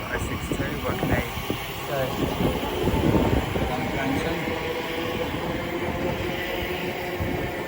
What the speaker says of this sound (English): it's also about to come charging her way through now. Will be a Greater Anglia pair of 720s going from London Liverpool Street to Ipswich